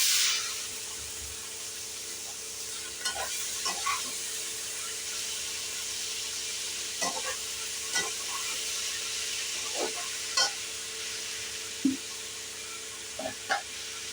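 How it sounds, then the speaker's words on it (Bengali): Dried chilli, bay leaf and panch phoron crackle in hot oil, a soft continuous sizzle broken by scattered light pops and stirring clicks. "একটা শুকনো লঙ্কা তেজপাতা আর দিচ্ছি ফোড়ন পাঁচ ফোড়ন"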